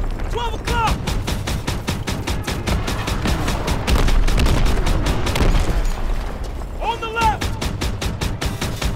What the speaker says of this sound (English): it's like I gotta keep on shooting or else those guys will get me